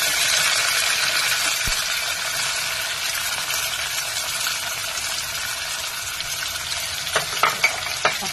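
Chopped onion drops into hot oil already crackling with tempered spices and mustard seeds, setting off a loud, continuous sizzle and stirring noise, with a few sharp scrapes near the end and no voices.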